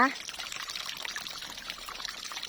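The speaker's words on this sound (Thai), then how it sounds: "ทุกคนเราก็จะทำการเติมน้ำเข้าไปใหม่แบบนี้นะคะ" Water is poured to refill a snail tank, a steady close splashing and trickling stream that runs throughout after a brief voice at the start.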